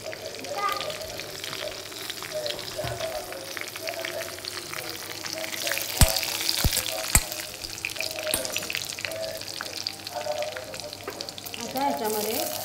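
Curry leaves sizzle and crackle steadily in hot oil for a brinjal masala, with a few sharp pops and stirring under faint background voices.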